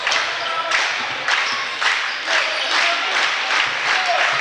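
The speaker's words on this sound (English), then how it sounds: "Here the student section rhythmically clapping, getting behind their team" A high school student section in a basketball gym claps in unison, loud rhythmic bursts of about one per second over a crowd murmur, while a play-by-play announcer talks over it.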